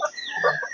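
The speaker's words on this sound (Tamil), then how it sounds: "இது வந்து பெருவிடை கோழிகள்." Peruvidai native chickens on a farm, a brief burst of close, overlapping clucks and chirpy calls, with no talking.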